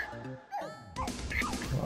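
Dog in the Spelunker World video game giving short yips and whimpering barks, a quick run of sharp, close calls over a couple of seconds.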